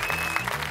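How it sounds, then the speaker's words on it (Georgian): A studio audience at a Georgian TV comedy game show claps in a brief, dense burst of applause, with a faint tone running beneath it. "აპლოდისმენტები"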